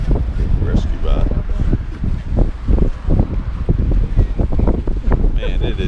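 Strong wind blows outdoors, buffeting the microphone with a continuous low roaring rumble that gusts throughout, while people talk over it.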